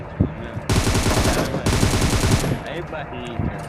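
Loud bursts of automatic gunfire from a Free Fire match, two sustained volleys of rapid shots around a brief pause, then scattered single shots trailing off.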